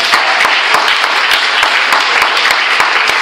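A church congregation claps and cheers in praise, a loud, dense wash of applause with sharp individual claps standing out throughout.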